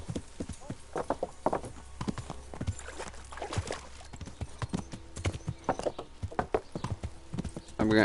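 Steady clip-clop of horse hooves at a walking pace in the video game Kingdom Come: Deliverance, close and fairly clear, with a brief snort or whinny near the end.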